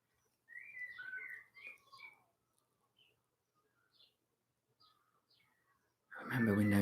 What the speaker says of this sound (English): The sound of the bird.